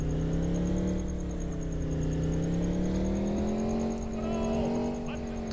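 A stolen police car's engine in a driving video game hums steadily at mid pitch, rising and falling gently as it cruises, with no voices over it.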